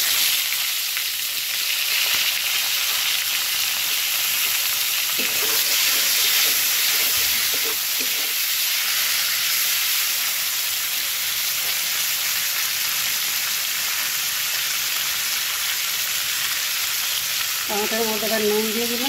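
Tomatoes go into hot oil with panch phoron and bay leaf, giving a loud, steady frying hiss that stays even throughout, with a brief voice near the end.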